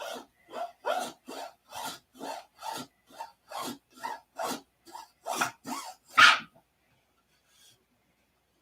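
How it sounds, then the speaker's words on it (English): A blade whittles the wood of a model P-47 flap in about a dozen rhythmic scraping strokes, close and fairly loud, then stops into silence. "We're just whittling away the wood."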